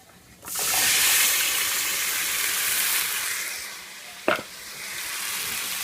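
Green beans drop into a hot pan with garlic and burst into a loud, close, hissing sizzle that settles into a steady fry, with one sharp knock of the pan near the end.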